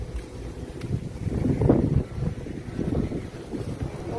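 Strong evening wind blows outdoors around a house, a continuous low rumbling roar with gusts buffeting the microphone, loud and close, with no talking.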